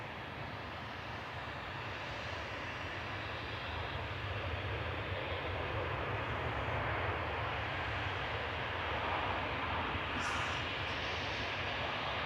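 Ryanair flight 614 from Brussels Charleroi arrives at Manchester Airport, its engines a steady, distant broadband roar that swells slowly across the whole stretch.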